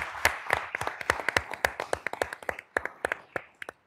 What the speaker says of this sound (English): Can we please give a round of applause to Aurora?